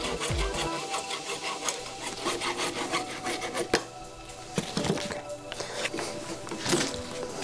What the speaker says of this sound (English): Get a little sanding done on this, smoothed out